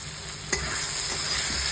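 Potatoes fry in spiced masala with salt and Kashmiri chilli powder in a pan, giving a steady close sizzle. A single scrape of the spoon stands out as the mixture is stirred, with a faint hum underneath.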